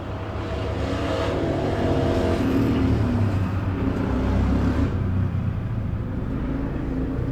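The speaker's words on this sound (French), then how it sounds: "C'est un hélicoptère." A helicopter flying overhead, its deep, steady rotor rumble droning continuously nearby, holding a constant loud level with no pauses.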